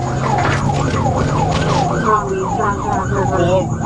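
A police car siren wails loudly and steadily in repeated rising-and-falling sweeps, close by, during a pursuit of a stolen SUV in Scott, Arkansas, over a constant engine and road hum.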